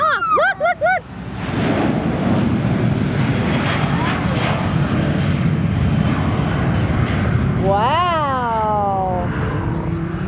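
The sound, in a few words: airplane taking off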